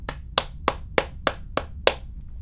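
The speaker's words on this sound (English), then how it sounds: "You're supposed to clap when the title gets name dropped." Seven sharp, evenly spaced hand claps, close and crisp, with no voices.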